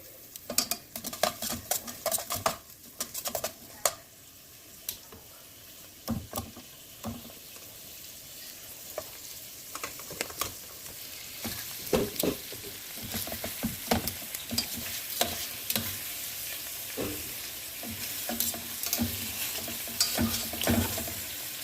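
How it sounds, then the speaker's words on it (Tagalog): Beef stew ingredients stir-fried in a pan at home: steady sizzling and frying with frequent scraping and stirring strokes of a utensil against the pan, close and continuous throughout, no voices. "Stir fry, stir fry."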